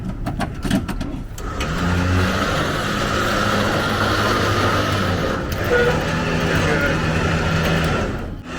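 A 1975 ragtop VW Beetle's air-cooled engine runs at a steady, rough idle close by, a continuous low rumble that swells briefly near the middle, with people talking over it.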